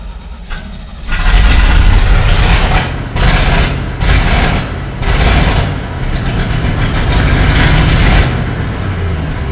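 A 1969 Chevy dump truck engine running rough on an old Quadrajet carburetor, loud and close, a steady heavy rumble with surging revs and dips that will not settle into an idle.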